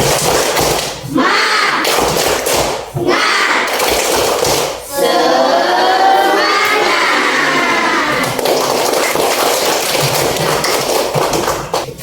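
Children in an Indonesian classroom perform the Tepuk Semangat clapping chant, a loud rhythmic burst of clapping and shouted words from the whole group, with a strong surge of voices in the middle.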